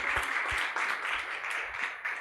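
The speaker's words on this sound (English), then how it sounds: "let's give them a big round of applause" Audience applause at a democracy hackathon event: a short spell of steady, continuous crowd clapping with no pauses.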